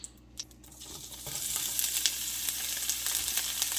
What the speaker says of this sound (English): We're going to sizzle these onions for a little while